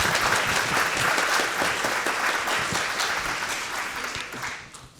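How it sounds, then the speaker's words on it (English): A crowd claps steadily and warmly for several seconds, the applause gradually thinning and fading toward the end. "Let's give them a round of applause as well."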